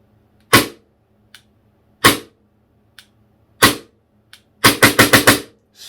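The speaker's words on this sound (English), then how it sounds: "But with that locked to the bottom, we can actually dry fire it" A KWA KZ61 gas blowback airsoft SMG dry fires, with four spaced single sharp snaps followed by a quick burst of five rapid cracks, loud and close with no talk.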